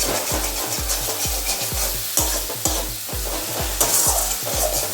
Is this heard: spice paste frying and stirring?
yes